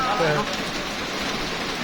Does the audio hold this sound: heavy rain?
yes